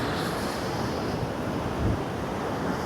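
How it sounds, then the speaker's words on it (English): Choppy high sea waves at Scarborough below the cliffs, a steady broadband roar of surf with wind buffeting the microphone and a slightly heavier wash near the end. "how high the waves are in Scarborough"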